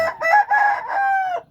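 A young rooster at a Thai home flock crows once, close and clear, a single strained call in several rising and falling segments that ends abruptly.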